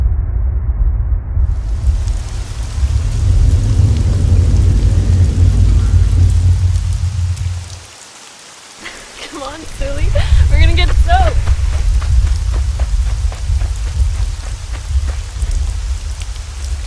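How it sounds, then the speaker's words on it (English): Heavy rain from a thunderstorm, loud and close, with low rumbling thunder beneath it. The sound breaks off for a moment midway and then resumes with fainter chirping or voice-like sounds over the downpour. "I love thunderstorms."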